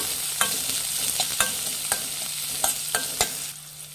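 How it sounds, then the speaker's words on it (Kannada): Onions and green chillies fry with cooked chana dal in a pan for an Ugadi festival dish, a steady close sizzle broken by several sharp scrapes and knocks as a spoon stirs. "ಈಗ ಈರುಳ್ಳಿ ಹಾಕೊಳ್ಳೋಣ, ಮೆಣಸಿನ್ಕಾಯಿ ಎಲ್ಲ ಹಾಕಿ ಫ್ರೈ ಮಾಡಬೇಕು ಫ್ರೆಂಡ್ಸ್"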